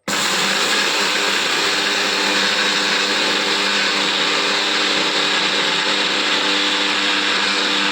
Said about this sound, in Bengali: এখন মিক্সি করে নেব।